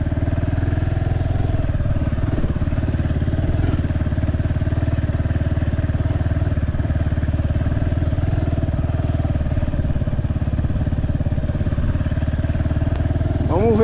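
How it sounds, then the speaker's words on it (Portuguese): A motorcycle rides on a wet, muddy, loose dirt road, its mid-pitched engine running steadily and close throughout, with a brief rattle near the end. "Tá solta, a moto está deslizando."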